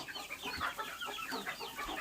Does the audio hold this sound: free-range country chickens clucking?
yes